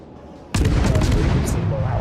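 Ship gun salvo in the naval video game World of Warships: a sudden loud blast that rolls into a sustained rumble with ringing echoes, close and dominant, with no talk.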